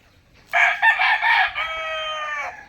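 A rooster crows loudly and close by on a small chicken farm in San Carlos, Pangasinan, one long drawn-out call, with other chickens around and no talking over it.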